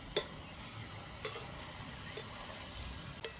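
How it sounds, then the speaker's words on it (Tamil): Vettu palakaram dough frying in hot oil gives a quiet, steady sizzle, broken by a few sharp metallic scrapes and clinks as a spoon stirs the pan at irregular moments. "வடிவாக கிண்டி விட்டால் பொரிஞ்சு வரும்"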